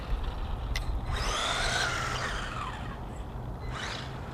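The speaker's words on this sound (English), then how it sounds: "Let's see how the braking is." A WLToys 12428 1:12-scale 4WD off-road RC truck brakes hard, its tires giving a rising then falling skid squeal over about a second, set against steady outdoor background noise with a brief click beforehand.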